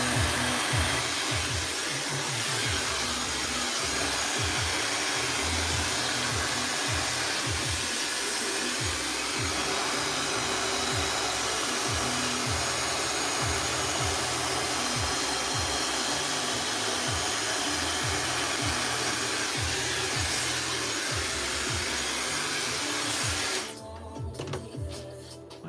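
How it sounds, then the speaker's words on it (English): A hair dryer blows hair straight with a loud, steady whoosh that runs almost unbroken for over twenty seconds, then cuts off near the end. "I'm just gonna blow dry my hair straight"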